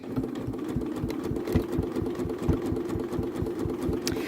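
A Janome sewing machine stitches a blanket stitch at steady speed, its needle thumping in a fast, even rhythm over a constant motor whir, close and alone.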